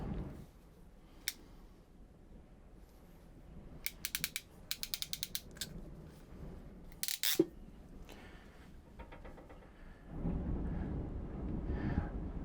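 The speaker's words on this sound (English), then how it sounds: "now I'm just going to crimp that" Crimping a clamp onto a PEX fitting fitted with vinyl tubing: faint handling noise, then quick bursts of sharp ratcheting clicks from the crimp tool, a louder squeeze near the end, followed by rustling.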